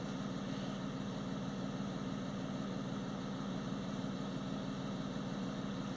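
A BMW 5 Series F10 3.0 diesel engine idles steadily, a low, even rumble with a constant mechanical hum and no change in pace.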